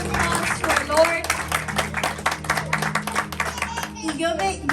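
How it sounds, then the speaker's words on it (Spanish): A church congregation gives a big round of applause during a Spanish-language service, with dense clapping filling most of the stretch under a speaking voice and some music. "Hay que darle un fuerte aplauso"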